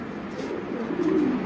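Pigeons at a pigeon seller's stall give a soft, low, rolling coo, close by and brief, over a faint background murmur.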